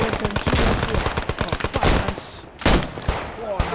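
Rapid gunfire from Squad 44, a WWII-era shooter game, crackles in dense bursts of close machine-gun and rifle shots, with a brief lull before more loud volleys.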